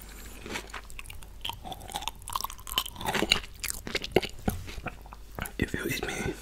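Kimchi and rice are eaten up close, with moist crunching and chewing bites that come in quick irregular bursts, joined by soft whispery mouth sounds.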